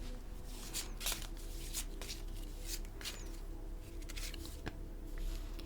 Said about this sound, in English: So I'm going to pick a couple of tarot cards.